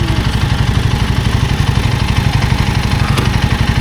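Royal Enfield Guerrilla 450 motorcycle idling close by, a loud, steady low thumping pulse with a rapid even rhythm and light mechanical clatter, running alone without talk.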